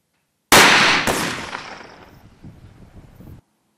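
Two shotgun blasts from an ELOS Traqueur 12-76 double-barrel gun fire about half a second apart outdoors in freezing weather, loud and close, with a rolling echo fading out behind them.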